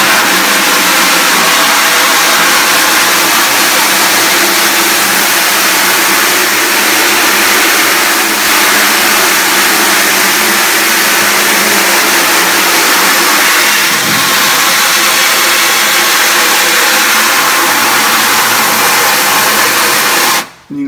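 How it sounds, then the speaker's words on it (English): A power washer blasting water onto a screen printing screen to wash out the exposed stencil, a loud continuous hissing spray with a motor drone that holds steady for about twenty seconds, then cuts off abruptly. "If you expose your screen properly, you can use a power washer."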